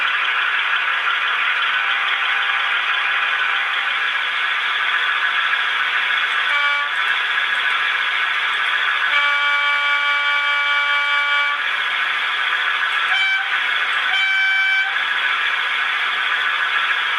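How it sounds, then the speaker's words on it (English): A model Western Centurion locomotive run on a Z21 DCC system gathers speed. It gives a constant loud buzzing, rattling drone, with brief tonal horn-like notes rising over it now and then. "You can hear Western Centurion gathering up speed."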